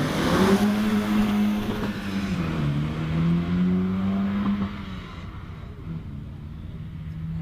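Porsche race car accelerating up the Prescott hillclimb course, its engine note rising and shifting through gears in the distance before fading, with a commentator talking over the sound.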